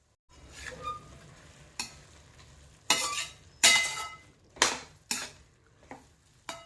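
Radish greens stirred with spices and a little sugar in a metal pan over low heat: soft sizzling under a series of sharp scraping clinks of a spoon against the pan, spaced irregularly and growing more frequent.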